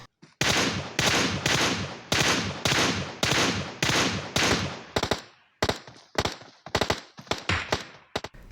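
Scoped rifle fire in PUBG Mobile: a steady run of sharp, loud gunshots fired in quick bursts, then breaking into scattered, irregular shots with brief gaps toward the end.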